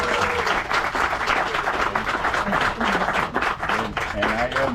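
Loud, dense applause at a charter school ribbon-cutting ceremony, a round of clapping for a man retiring after 40 years at General Motors, with cheering voices and calls from the crowd mixed into the clapping throughout.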